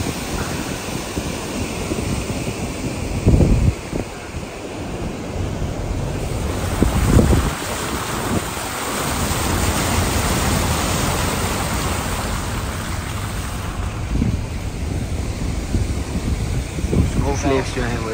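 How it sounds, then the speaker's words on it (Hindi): Swollen mountain river on the road to Chitral, running high and fast with rain and snowmelt, roars as a steady broadband rush throughout, with gusty wind buffeting the microphone and brief louder surges. "पानी का इस वक्त बहाव बहुत ज़्यादा, क्योंकि ऊपर बारिश भी हो रही है और स्नो मेल्टिंग का प्रोसेस भी साथ साथ चल रहा है"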